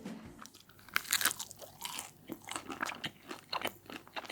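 Close-up crunching and biting, a series of sharp crisp bites followed by chewing, fairly quiet with no talking.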